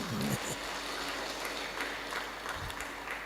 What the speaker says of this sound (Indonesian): tak kasih aplaus lah